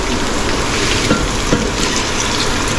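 Water pours steadily into a cooking pot of rice and potatoes for a Bengali muri ghonto, a loud, continuous splashing gush without pause.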